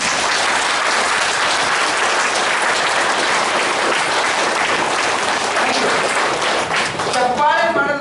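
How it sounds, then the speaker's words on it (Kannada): A large audience at a resort event applauds loudly and steadily for about seven seconds, a dense wash of many hands with no break, and a voice emerges briefly as it ends. "ಒಂದು ಚಪ್ಪಾಳೆ ಬಳಿ ಮನ್ಸಾರೆ"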